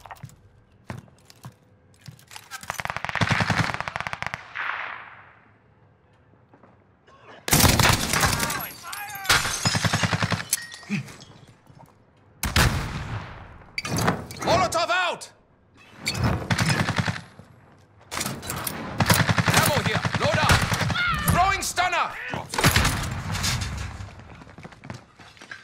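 Bursts of video game gunfire, rapid automatic fire and heavy thumping shots in loud clusters separated by short quieter gaps, close and intense.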